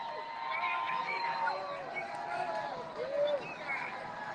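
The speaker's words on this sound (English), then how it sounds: "there's some workers in the window cheering on the protesters" Protest crowd in Charlotte, North Carolina, with workers in a window cheering on the marchers; a steady, fairly distant wash of crowd voices and scattered whoops and shouts fills the whole stretch without a clear peak.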